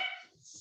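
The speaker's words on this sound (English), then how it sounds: "Sorry, my dogs are barking." Real dogs bark nearby during an online meeting, a quick yappy burst heard alone and fairly loud.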